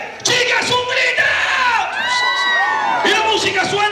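A crowd at a New Year's live comedy show shouts and cheers loudly, with high whoops and yells rising over the noise for several seconds.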